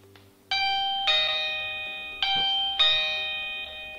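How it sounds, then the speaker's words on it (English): Toucan VuPoint wireless video doorbell chime ringing close by, a clear electronic ding-dong struck four times in quick succession, each tone ringing on and overlapping the next. "you can hear the chime, so just to let you know what this sounds like"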